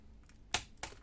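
Two sharp plastic clicks and snaps as a sharp tool pries up the keyboard of a Lenovo G50-30 laptop, close and quiet, within about a second.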